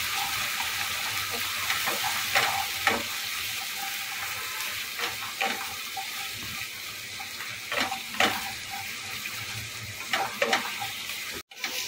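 Chili paste frying in a pan over low heat, a continuous gentle sizzle punctuated by intermittent scraping stirs and clinks of a spoon against the pan, with a short gap near the end.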